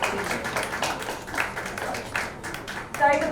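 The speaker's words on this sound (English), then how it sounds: "Can we please get a round of applause?" Scattered clapping from the audience at a book launch event for 'Clearly Invisible in Paris', uneven and loosely timed, rising in a few louder bursts near the end.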